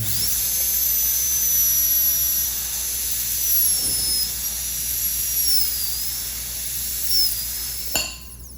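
Dental IPR burr, a 0.5 anterior interproximal reduction bur, whining at a high steady pitch that wavers slightly as it works, close and continuous for several seconds before cutting off near the end.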